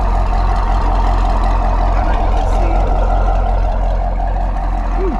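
A loud, steady engine idle from a 2010 C6 Corvette with catless Corsa Extreme exhaust, a deep low-end rumble that holds constant throughout, with faint background noise on top.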